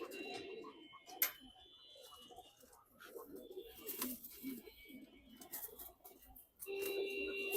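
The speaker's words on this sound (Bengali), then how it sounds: "কবুতরগুলা ছাড়ি" Pigeons on a rooftop coo and call as they are let loose, a busy flock murmuring steadily with a few sharper bursts, including a rise near the end.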